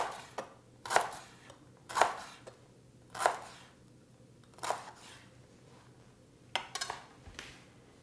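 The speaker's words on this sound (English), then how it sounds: "you want to just cut that up with a knife, about like this" A knife chops bulb pieces on a cutting board while curry ingredients are prepared. About six distinct, sharp chops fall roughly a second apart, with a quick double hit near the end, close and fairly quiet.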